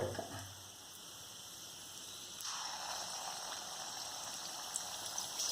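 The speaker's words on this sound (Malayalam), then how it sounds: "എണ്ണ ചൂടായിട്ടുണ്ടെങ്കിൽ നമുക്കത് ഓരോന്നും ഇങ്ങനെ ഇട്ട് കൊടുക്കാം." Wheat flour snack dough drops into hot oil and bubbles into a steady, soft sizzle with a fizzing burst of bubbling partway through, quiet and close.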